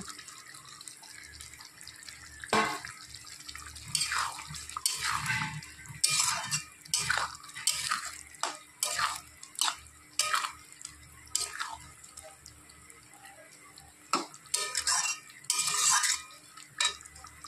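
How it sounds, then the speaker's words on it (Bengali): Warm water is poured and stirred into a pointed gourd and shrimp curry in a pan, giving a run of splashing, sloshing bursts and drips, close and fairly faint, with short gaps between them. "হালকা অল্প গরম জল দেব"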